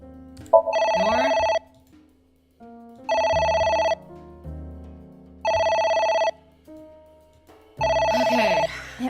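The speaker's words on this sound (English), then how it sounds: "It won't stop ringing." Telephone in the game AI: The Somnium Files ringing in four loud, evenly spaced electronic bursts with short pauses between, the last overlapped by a brief noisy sound.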